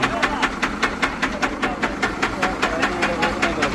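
A Swaraj tractor engine with a piston fault runs with a steady, rapid knocking beat, about four to five knocks per second, loud and close over a hissing mechanical drone.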